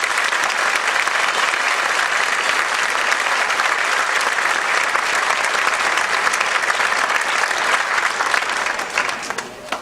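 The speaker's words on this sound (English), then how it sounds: "So please, a round of applause for our elders." A graduation audience at the UNM medical school ceremony applauds its elders with dense, sustained clapping. The applause stays loud and even for nearly ten seconds before starting to thin at the very end.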